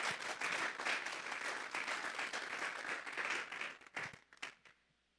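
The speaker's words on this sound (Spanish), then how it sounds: "Démosle un fuerte aplauso pues al Señor." A church congregation at a Sunday service breaks into a full, lively round of applause that holds steadily, then breaks into scattered final claps and fades to quiet within five seconds.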